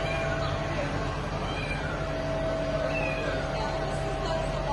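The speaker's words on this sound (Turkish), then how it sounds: "bir çam ağacında kedi sesi duyan vatandaşlar" A cat stuck in a pine tree in Turkey meows repeatedly amid a steady, noisy outdoor background, with faint voices of firefighters and bystanders mixed in.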